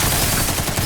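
Gunfire from the Resident Evil Requiem video game, with a dense, loud, continuous burst of rapid shots filling the whole moment.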